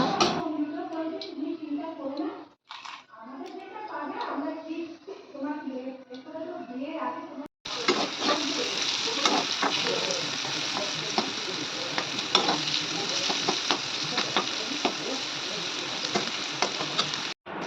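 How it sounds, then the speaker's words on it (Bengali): Bitter gourd frying in oil in a home kitchen: someone talks first, then a loud, steady sizzle and crackle of oil takes over for about ten seconds, with occasional stirring clicks. "এখানে করার মধ্যে তেল দিয়ে দিচ্ছি প্রথমে করলাটা ভেজে নেব"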